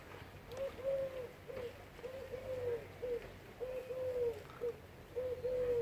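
Pigeons cooing on a last day in Cervo, Liguria, Italy, a soft repeated series of low coos in a steady rhythm, moderately close, over faint outdoor background noise with no talking.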